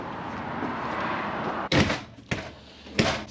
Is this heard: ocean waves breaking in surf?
no